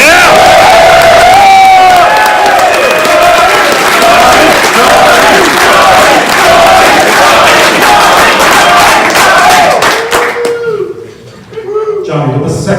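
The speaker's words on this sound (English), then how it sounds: "we need a big round of applause for the person who gave us an incredible finish to the event, Mr. Johnny Shen of the Storm Game Plan." Crowd at a Legend of the Five Rings world championship tournament applauds and cheers loudly, with whoops and shouts over dense clapping that carries on for several seconds before dying down as talk resumes.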